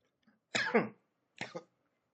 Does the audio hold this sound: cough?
yes